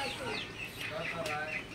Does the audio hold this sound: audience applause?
no